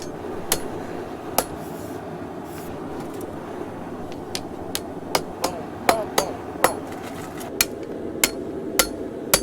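Irregular sharp hammer strikes ring out on steel over an anvil in a home shop, some spaced apart and others in quicker bursts, moderately loud over a steady background hum.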